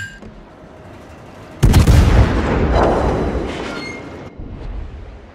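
A Goliath battleship in World of Warships fires its shells as one sudden massive boom. A long rumbling roar follows and fades over several seconds, loud and close, with no talking.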